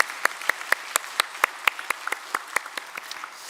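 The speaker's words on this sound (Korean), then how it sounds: "우리 찬양대를 위해서 격려의 박수 한번 하겠습니다" A church congregation at a Sunday worship service gives the choir a short round of encouraging applause: sparse, crisp individual claps from a modest group, fairly close and evenly spread over a few seconds.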